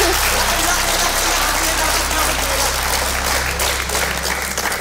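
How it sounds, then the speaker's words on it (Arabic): A studio audience at a televised family quiz-show final breaks into loud, continuous applause for a correct answer, a dense clapping roar that fills the whole stretch and fades slightly at the end. "الجمهور سقف، معناها إجابة صح؟"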